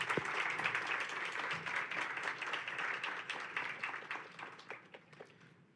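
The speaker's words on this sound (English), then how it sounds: "please give a round of applause to all the candidates on stage right now" Audience applause for election candidates on stage at a student union forum, a steady wash of clapping that holds for several seconds and thins out toward the end.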